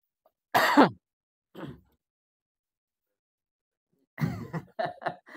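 A sharp throat clearing, then a short softer one, a pause of silence, and a burst of several quick throat-clearing grunts close to the microphone.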